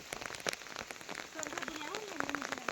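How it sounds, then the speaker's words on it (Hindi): A sudden heavy rain shower pelts down steadily and densely outdoors, a continuous close hiss with faint voices and sounds underneath. "अभी अभी अचानक से इतनी बारिश लगी है"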